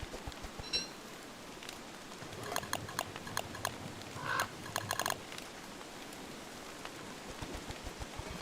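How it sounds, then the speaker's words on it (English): Rain in the video game Don't Starve gives a continuous broadband patter, with a cluster of light taps and clicks scattered through the middle and no talking. "And it's raining."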